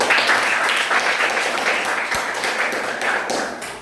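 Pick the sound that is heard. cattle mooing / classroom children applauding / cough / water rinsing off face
classroom children applauding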